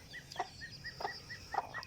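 A few chickens cluck in quick short bursts, three or four close, clear calls over a low outdoor background hum.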